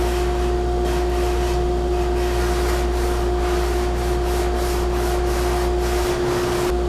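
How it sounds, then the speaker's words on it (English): Wooden arch edges on a built-in bookshelf being sanded smooth: a steady, rhythmic rubbing rasp of repeated strokes over a constant loud mechanical hum. "then just sanded until they all disappeared"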